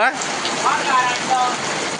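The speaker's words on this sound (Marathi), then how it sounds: "बघा हा केवढा पाऊस आला" Heavy rain pours down outdoors during a village house visit, a dense, constant hiss of falling water that stays loud and close throughout.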